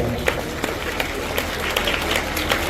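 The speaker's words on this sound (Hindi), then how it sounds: "आप लोगों की जोरदार तालियां" Applause from an audience at a school annual day function at an Urdu high school, steady dense clapping filling the space with scattered louder peaks throughout.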